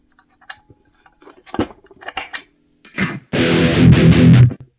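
A short burst of guitar played through heavy distortion, preceded by scattered clicks and taps, the final chord loud, fuzzy and bass-heavy before cutting off.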